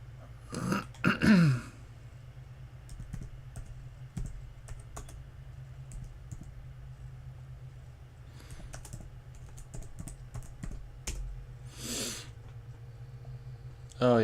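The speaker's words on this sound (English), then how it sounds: "I'm actually going to type" Computer keyboard typing comes in scattered bursts of key clicks over a steady low hum, broken by a throat clearing or snort near the start and a few short vocal noises later.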